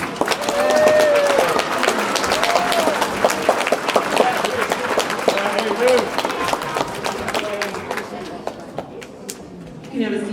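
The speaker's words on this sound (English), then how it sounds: "Please give them a nice round of applause." Audience applause at a middle school awards ceremony for the band and choir students: sustained clapping with crowd chatter, lasting about ten seconds before it fades out.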